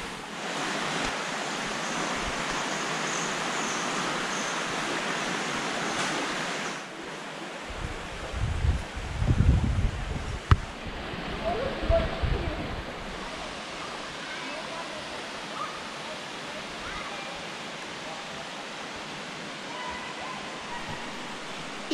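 A strong river current with a small side stream rushes in Nuku Hiva as a steady broad wash, partly interrupted midway by close rustling and bumps before the flow resumes.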